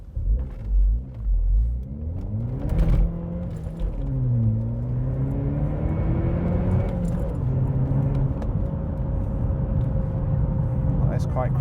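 Opel Astra VXR 2.0 turbo hatchback accelerating hard from 0 to 60, engine note climbing through rising gear pulls with shifts, heard from inside the cabin, loud and steady with brief speech near the start.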